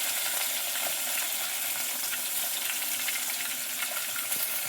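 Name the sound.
onions and green chilies frying with fennel and salt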